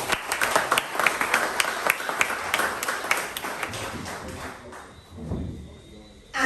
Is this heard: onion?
no